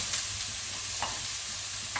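Onion hits a pan with a little cooking oil and sautés in a soft, continuous sizzle, with a few faint stirring scrapes.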